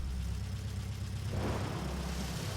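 A car engine runs in the video game Deadly Premonition as a steady low drone, with a wash of noise rising partway through.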